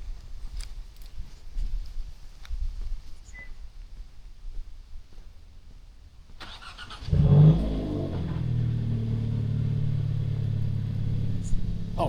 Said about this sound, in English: let's get that cold start in.